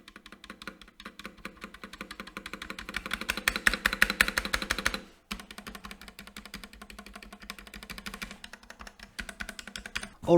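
Stock Womier WK61 hot-swap mechanical keyboard typed on steadily, dense clacky keystrokes close to the microphone, with a brief pause midway before the typing resumes.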